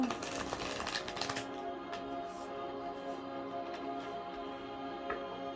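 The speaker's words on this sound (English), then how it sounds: "Let me shuffle real quick." A deck of cards is shuffled in a quick burst of dense crisp riffling flutter lasting over a second, followed by faint scattered card taps against a quiet background hum, with no talk.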